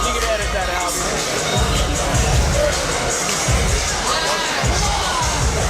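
An audience at the Brandon Davis versus Tony Rogers fight keeps up a loud, continuous crowd roar as Rogers stirs them, with heavy thumping bursts beneath the steady wall of voices.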